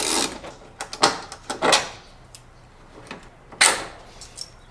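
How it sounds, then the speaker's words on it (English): A wrench backs out T25 screws holding the taillight of a Porsche 911 (991): a handful of sharp, close clicks and short ratcheting rattles separated by brief pauses, with no talking. "So let's go ahead and remove these screws."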